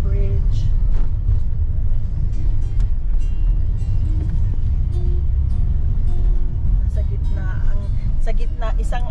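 A vehicle heads toward Samanico Bridge, with a loud, constant low engine and road rumble from inside and scattered rattles and clicks above it while people talk.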